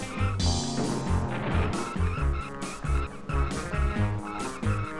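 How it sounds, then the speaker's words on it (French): Arcade-style racing from the Cruis'n USA video game: engine roar and tire skids dominate, with a crash folded into a steady, loud mix over pulsing game music, no voices. "Alors là, les collisions sont très réalistes dans ce jeu"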